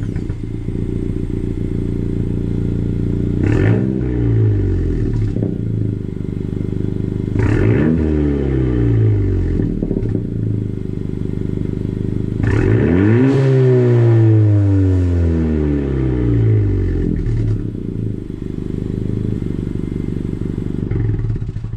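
A loud, raw 2018 Honda Civic Si engine with the muffler deleted revs up three times in rising bursts, crackling and rumbling between pulls over a steady rough idle.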